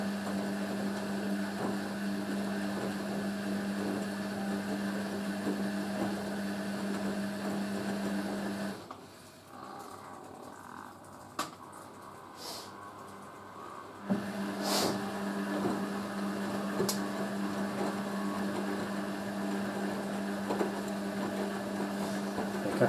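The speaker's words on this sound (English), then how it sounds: "I just love how smooth the motor is on that though." A Hoover A3060 Electronic 1100 washing machine runs with a smooth motor hum and a faint metallic tone. The hum is steady, drops away for several seconds midway, then resumes with occasional knocks, and no one speaks.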